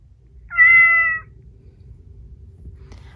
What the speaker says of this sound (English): Even on mute, it'll respond to its name with a meow